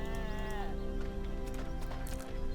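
Sheep in the video game RuneScape 3 bleat in a clear, wavering cry early on, over a bed of game music and some clopping, rustling effects, all fairly close and loud.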